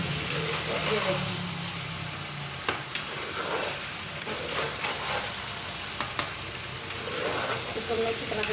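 Diced potatoes fry in a pan for an aloo fry dish, giving a steady close sizzle broken by repeated scraping clicks of stirring, with a voice talking over it.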